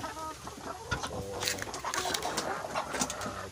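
Ready-to-lay chickens in a poultry layer house, a flock of about 194 hens, cluck and call continuously, a dense overlapping chorus of bird voices that stays close and fairly loud throughout, with no talking.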